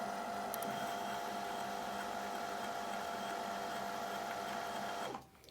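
A Brother sewing machine winds a bobbin with a steady, high, whirring motor hum that runs without pause for about five seconds, then winds down and stops.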